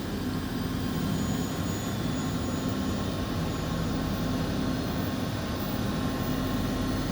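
An Electrovert Omni Excel 10 reflow oven runs with its flux containment system active, producing a loud, steady broadband roar like rushing air with a faint low hum, unchanging throughout and without voices.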